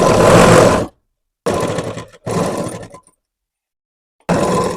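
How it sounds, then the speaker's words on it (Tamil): Sewing machine running a blouse seam in four short bursts of close whirring stitching, each lasting under a second, with silent pauses between runs. "இந்த தையல் வந்து நம்ம ஒட்டி படிமான தையல் போட்டுக்கிறோம்"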